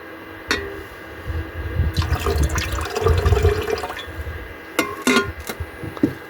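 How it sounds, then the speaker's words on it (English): Nitric acid is poured into distilled water in a home gold-recovery setup, giving a splashing pour of liquid. A brief splash is followed by a longer burbling pour, then a few short splashy bursts near the end, up close with no talking. "We'll add just a small little bit more nitric."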